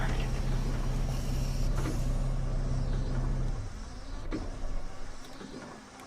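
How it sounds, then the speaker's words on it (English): Bus doors close in OMSI 2 on a C400R bus, Cotterell route U18: a steady motor whine and hum that cuts off partway, followed by a soft thud and engine rumble, with no speech. "Close the doors."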